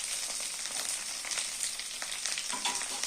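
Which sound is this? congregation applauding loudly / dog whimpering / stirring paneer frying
stirring paneer frying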